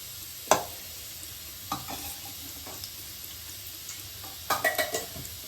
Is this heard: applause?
no